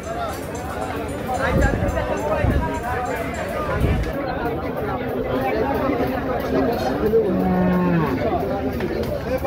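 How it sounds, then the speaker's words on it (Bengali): Cattle low at a busy Qurbani cattle market in Hozrotpur, Bangladesh, where a pair of cows is being brought in; a drawn-out moo rises near the end over constant crowd chatter and close voices talking. "জোড়া গরু।"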